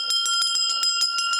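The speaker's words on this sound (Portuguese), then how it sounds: "Ele vem aqui, bate esse sino, vamos ver a reação do povo." A bell rung repeatedly by a studio guest on a Brazilian TV news show, quick bright metallic strikes in rapid rhythm with sustained ringing tones, loud and close.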